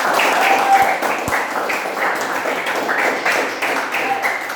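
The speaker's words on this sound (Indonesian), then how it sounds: "Tepuk tangan yang semangat." A classroom of pupils claps with enthusiasm, a rippling, slightly ragged spread of hands that stays steady throughout, with a couple of sharp knocks early on and no talking over it.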